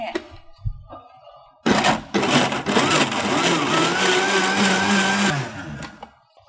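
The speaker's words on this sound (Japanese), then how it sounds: "今ミキサーにかけまして" A blender whirs loudly for several seconds blending a ripe peach smoothie, starting abruptly and cutting off, with a few soft knocks and clatter before and after.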